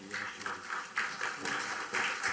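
Audience applause during the inaugural session of an annual E-Summit at a school of engineering, heard as brief, moderately faint clapping in rhythmic bursts.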